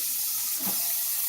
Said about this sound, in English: this is when you put the water in